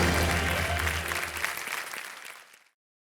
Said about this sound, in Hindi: जोरदार तालीम बजाए